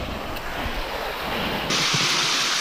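A waterfall in the Gold Coast hinterland of Australia rushes in a steady, broad roar, mixed with some wind buffeting on the microphone.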